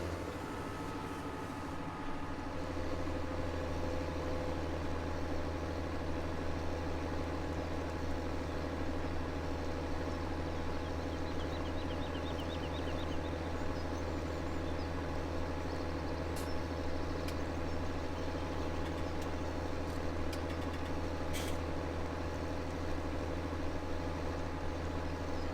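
Low, steady droning of a fast tractor engine in Farming Simulator 17, a continuous idling rumble with faint clicks and hisses on top, no talk.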